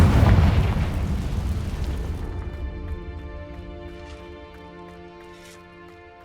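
Bombarda and Confringo spell explosions in the game Hogwarts Legacy: a loud, close blast that rumbles and fades over several seconds into a ringing, music-like tail.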